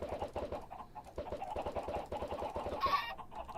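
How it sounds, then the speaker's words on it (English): Several chickens in the Minecraft video game cluck repeatedly, a busy overlapping patter of short calls that sounds moderately close, with no talking. "There are so many chickens to hatch."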